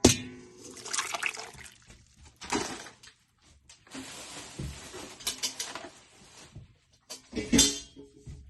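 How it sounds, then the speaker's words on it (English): Water splashes and pours into a cooking pot in short irregular bursts for tamales, with gurgling and liquid patter, close up with no speech. "you want to add water back into the pot also"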